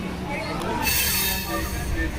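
Train running out of New Delhi railway station, a continuous rumble and rattle of wheels on track heard from inside a carriage, steady and fairly loud with no talking.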